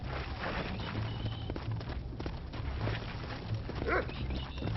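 A dog in the Red Dead Redemption video game barks briefly near the end, with light footsteps and a busy game soundscape underneath.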